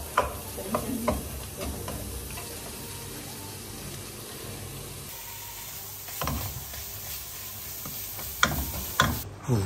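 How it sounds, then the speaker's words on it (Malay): Food sizzles in a frying pan as a utensil stirs it, scraping and clinking in irregular strokes over a constant hiss of frying, close and moderately loud with no talking. "So after siap tu kita kacau dulu guys. Kita bagi dia sebati dulu ya guys."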